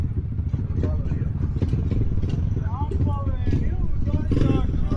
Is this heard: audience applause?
no